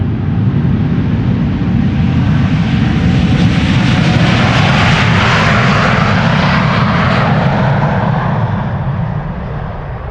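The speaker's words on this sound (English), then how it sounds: "And KLM flight 705 to Rio de Janeiro is going. That is a 7879 Dreamliner." KLM Boeing 787-9 Dreamliner departing Amsterdam Schiphol Airport, a loud close roar of jet engines that swells and slowly shifts in pitch as it passes, steady and unbroken throughout.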